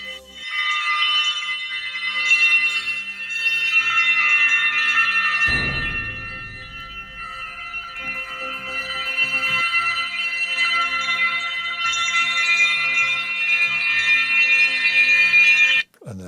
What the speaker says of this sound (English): There's a lot of jingly bells and stuff, so we've got some nice stereo glass bells.